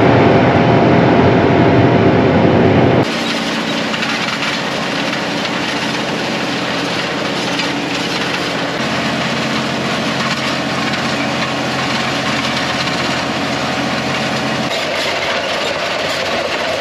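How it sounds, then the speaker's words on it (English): Farm tractor engine running steadily through organic corn cultivation, a loud continuous drone that shifts in tone after a few seconds and carries on alone without speech. "I just shut the tractor off."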